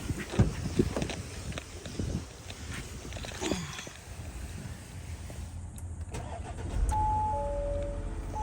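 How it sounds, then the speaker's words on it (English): A 2020 Audi A4 engine, heard from near the open hood, rumbles as it starts, then settles into a steady idle that grows somewhat louder toward the end. No one talks. "start up the car."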